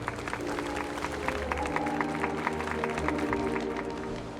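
A large crowd applauds steadily in Honkai: Star Rail, a dense, continuous patter of clapping heard over a sustained musical backdrop.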